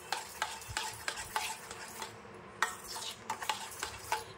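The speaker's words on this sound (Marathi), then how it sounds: "आणि हे व्यवस्थित मिक्स करून घेते" Sugar mixed into fresh mango pulp with a spoon, producing a regular series of close, light scraping and tapping strokes against the bowl, with no voices.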